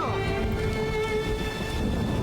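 Thunder from a storm scene in an action film rumbles low and steady beneath rain and a sustained tonal score, loud and continuous with no speech.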